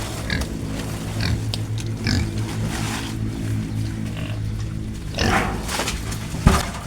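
Two young gilts on a farm grunt repeatedly in low, rumbling bursts, close and continuous, with a few louder snorts near the end.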